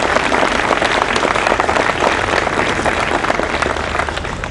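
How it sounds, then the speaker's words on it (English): An audience at a groundbreaking event applauds, with dense, sustained clapping throughout that fades slightly toward the end. "Let's have a round of applause for all of them."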